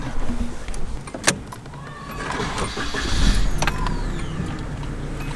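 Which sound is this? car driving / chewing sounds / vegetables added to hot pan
car driving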